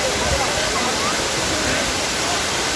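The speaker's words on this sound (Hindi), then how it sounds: "यह है हमारा बागसुनाग वाटरफॉल" The Bhagsunag waterfall, fed by cold mountain water running down between the hills, gives off a steady, loud, broadband rush that fills the whole clip, while a person talks over it.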